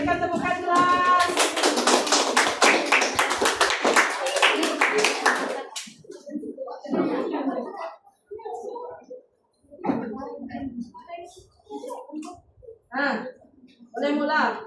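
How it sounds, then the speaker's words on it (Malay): A school class gives a round of rhythmic clapping for about six seconds, loud and close, and then a teacher's voice takes over with short instructions. "Berikan tepukan kelas."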